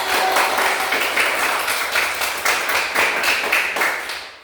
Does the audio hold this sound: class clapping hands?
yes